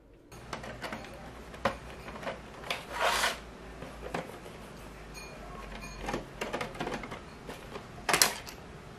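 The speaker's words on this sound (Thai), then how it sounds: "เราจะต้องใช้ไขควงมาขันสกรูที่อ ยู่ด้านหลังออก" Screwdriver backing out small screws from the back of a wristwatch, faint close scraping and ticking clicks with a couple of brief rasping bursts in a quiet room.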